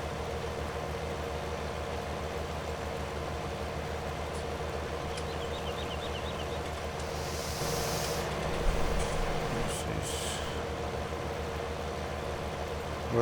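A tractor engine in the video game Farming Simulator 19 drones steadily and fairly loud throughout, with a brief hiss and some clatter midway and no talking.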